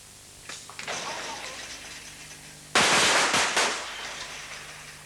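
A rifle shot at the 1985 Champion of Champions shooting competition in Narrabeen, Australia, cracks out loudly once against an outdoor background, with a smaller pop earlier and a commentator's voice running throughout.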